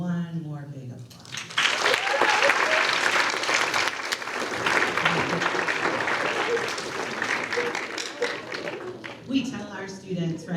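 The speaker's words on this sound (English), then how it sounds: "let's just do one more big applause." Big audience applause at a Writers Week event fills the room for about eight seconds, steady and full, with talk heard just before and after it.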